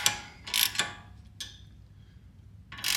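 A ratchet wrench tightening a rear control arm bolt on a 2018 Ford Explorer, giving several short, sharp clicking bursts with pauses between them, close and fairly quiet.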